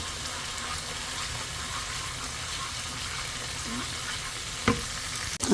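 Spice masala for a giant freshwater prawn curry stir-fried in a pan with a little added water, giving a steady close sizzle and scraping throughout, with a sharp clatter near the end.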